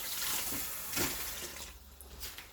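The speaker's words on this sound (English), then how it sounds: "Rinse them off." Ingredients for a Jamaican pumpkin soup with lamb's neck being rinsed under running water, with a steady broadband splash and trickle that swells briefly near the middle and then thins out.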